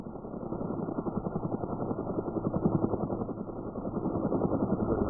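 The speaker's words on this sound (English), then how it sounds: "If you come out of the tree line, you will be shot at by the helicopter" A helicopter in the video game DayZ drones overhead with a steady, rapid rotor chop, loud and continuous throughout with slight swells as it circles.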